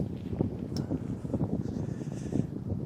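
Strong gusting wind buffets the microphone on an open football field, a continuous rough low rumble that swells and fades in uneven bursts, with no talking.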